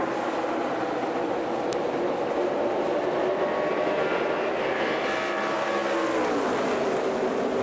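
NASCAR Xfinity Series stock cars race at Indianapolis after a restart, a loud continuous engine roar with pitch rising and shifting as the pack passes close by.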